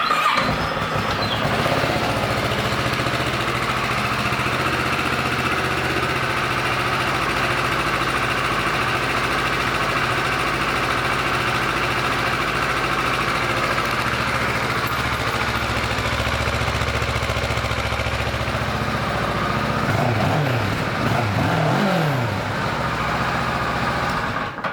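A 2014 Kawasaki Versys 650 ABS motorcycle engine starts and settles into a steady, loud idle that runs close and unbroken for the whole stretch, with a brief change in tone near the end.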